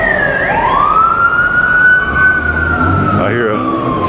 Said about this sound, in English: I hear a siren going by